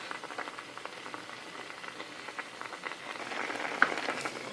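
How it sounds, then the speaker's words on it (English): Kiwi and apple compote with vanilla and cinnamon, sugar-free, simmering in a pot: a soft, continuous bubbling and popping that grows a little busier toward the end, fairly quiet and close with no talk. "It's already bubbling a bit."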